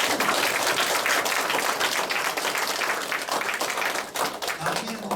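At a lecture event, an audience welcomes a visiting professor with warm, continuous clapping that thins slightly toward the end.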